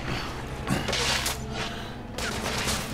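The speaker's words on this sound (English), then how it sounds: "Under heavy fire!" Sustained gunfire crackles through a firefight in the video game The Order: 1886, a dense fusillade with booming shots and mechanical clatter, loud and continuous with no voice over it.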